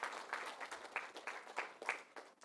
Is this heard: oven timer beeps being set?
no